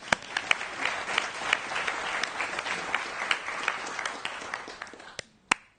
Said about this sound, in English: let's just give another round of applause and congratulations to these two teams